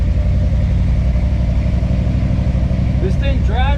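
A car with a small-block Chevy roller-cam engine and a manual gearbox drives along, its engine a steady, loud, low droning rumble inside the cabin, with a brief squeak near the end.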